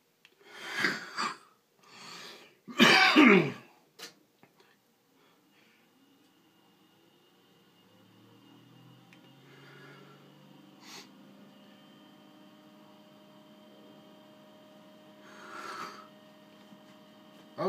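Someone sharply snorts Swisher Superior snuff in a few close, forceful nasal bursts, then gives a brief cough. Long quiet breathing and faint shuffling follow, with one more soft rush of breath near the end.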